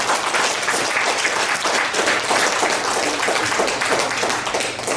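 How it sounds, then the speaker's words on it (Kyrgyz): Sustained applause from a gathered audience at a Kyrgyz foundation event, honouring the foundation's head Meder: dense, steady clapping filling the whole stretch at even loudness, with no voices over it. "Медер мырзада кол чабыңыздар"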